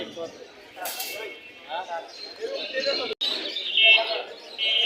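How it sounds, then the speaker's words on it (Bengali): Pigeons at a busy pigeon market in Mirpur, Dhaka, with soft cooing and chirping scattered among steady crowd chatter and nearby voices throughout. "এখানে অনেক সুন্দর সুন্দর কবুতর আছে আরও।"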